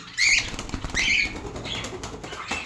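A bird flaps its wings in flight during a day of moving birds between enclosures and opening nests, giving two loud bursts of fluttering close by, then softer flapping.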